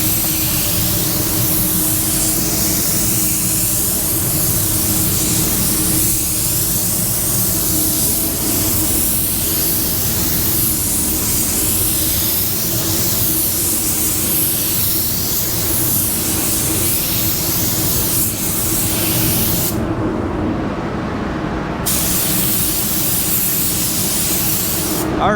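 Spray gun fitted with a 3M fine finish nozzle laying down a coverage coat, a loud, steady hiss of atomized spray running almost continuously, with one brief pause near the end.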